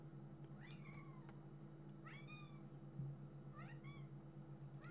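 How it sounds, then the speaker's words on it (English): A cat yowls to itself in a few separate rising, wavering cries, quiet and somewhat distant, over a steady low electrical hum, with no talking. "I can hear my cat, he's just yowling to himself."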